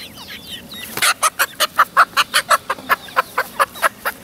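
A chicken clucks in a steady rapid series of loud, close, rhythmic squawks while its wing feathers are being clipped, with no talking over it.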